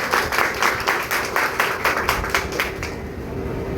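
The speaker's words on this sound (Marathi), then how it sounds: "त्याच्यात जोरदार टाळ्या वाजवा." Strong audience applause at a guru-worship ceremony during a devotional bhajan event, a dense steady patter of many hands clapping that fades out toward the end.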